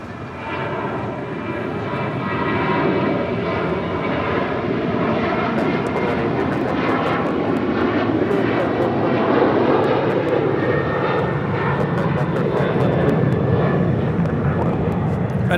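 Delta 912, a jet airliner, lands on runway 25 left at LAX. Its engines build from a moderate rumble into a loud, sustained roar that holds steady for the rest of the pass.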